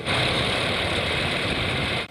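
A 330-horsepower truck engine idles with a loud, steady, even rumble that holds unchanged for about two seconds, with no voices over it.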